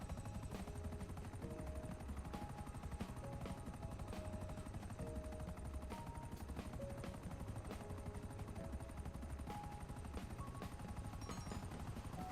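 A video game helicopter drones steadily throughout with a rapid rotor chop, mixed with bursts of machine-gun fire and scattered shots. No one speaks over it.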